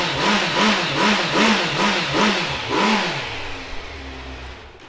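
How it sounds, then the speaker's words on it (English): A 2017 Kawasaki Z900 ABS motorcycle with its original exhaust revs hard in a rapid series of about six rising and falling blips, then drops back to a steady, lower idle, loud and close with no talk. "Let's give it a start up."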